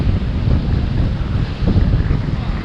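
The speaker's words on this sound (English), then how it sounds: "These waves are crazy." Heavy Hurricane Dorian wind roars across the microphone while ocean surf churns and rumbles beneath it, loud and continuous with no clear breaks.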